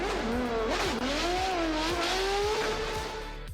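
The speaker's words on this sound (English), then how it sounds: "how difficult it is to drive a car at that speed" A car racing at high speed, its engine revving up and down through rising and falling whines with repeated gear shifts, loud and close with no talk.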